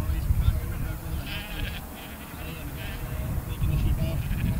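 At a working sheepdog sale at Usk Showground in South Wales, sheep bleat a few times at middle distance as they are unloaded, under steady outdoor noise and murmuring voices.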